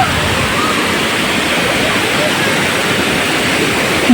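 Waterfall at a hidden falls spot: a loud, steady rushing roar of falling water fills the whole stretch with no letup.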